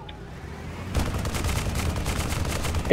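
Rapid automatic gunfire from a heavy-class weapon in the video game Tribes Ascend, a dense continuous rattle that starts abruptly after a quiet second and stays steady, with no talk.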